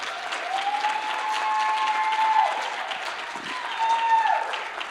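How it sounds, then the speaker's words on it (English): A round of applause fills the room at a law students' association awards dinner and gala, steady dense clapping from a sizable audience, moderately loud and sustained, with faint tonal sounds beneath. "One more time, round of applause."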